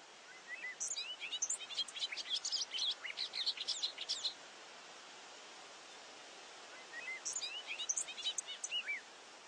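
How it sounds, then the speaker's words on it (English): A bobolink pours out a fast, bubbling, complicated song in two bursts separated by a pause, over a soft background hiss. "A bird who lives in open fields can have a fast, complicated song like this bobolink."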